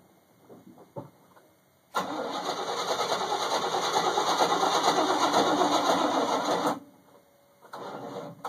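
A GMC engine cold starts: a few faint clicks and a short crank, then it catches into a loud, steady, high-pitched roar that cuts off abruptly, followed by another brief run of the engine.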